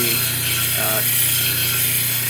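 Gray shell being ground on a 320 grit wheel to shape a pendant, giving a steady continuous whirring hum with a brief higher scraping note partway through.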